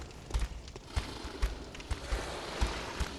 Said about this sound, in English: The footsteps sound like they're behind me.